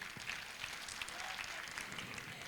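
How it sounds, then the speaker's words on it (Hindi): An audience at a motivational talk breaks into applause, a soft, steady wash of clapping that sounds somewhat distant and continues evenly without any voices. "जोरदार तालियां।"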